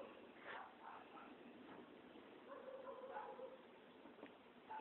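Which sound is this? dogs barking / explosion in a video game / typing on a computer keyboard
dogs barking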